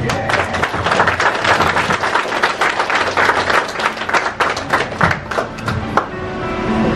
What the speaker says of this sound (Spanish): Para el novio, un fuerte aplauso.